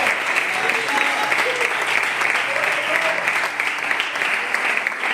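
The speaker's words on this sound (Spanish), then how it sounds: "Cuando le aplauden por esa conexión gloriosa" Dense, steady applause fills a church congregation during a gospel service, sustained and even from start to finish with faint voices beneath it.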